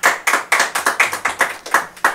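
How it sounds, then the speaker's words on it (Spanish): A single pair of hands clapping in a steady rhythm, about four claps a second, close and fairly loud with no talk, applause for a music show guest. "Qué buen aplauso para Gonzalo, por favor."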